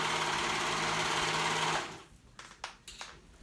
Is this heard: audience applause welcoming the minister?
no